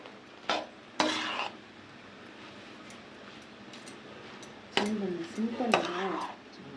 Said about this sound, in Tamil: இதை நல்லா கலந்து விட்டுடலாங்க.